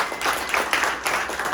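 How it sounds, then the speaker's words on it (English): An audience at a Web3 venture-capital backyard gathering gives a short round of applause, a moderate, uneven patter of clapping that rises and falls over a second or two. "give everybody a round of applause"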